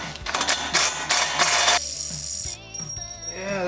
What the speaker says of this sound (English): love drilling stainless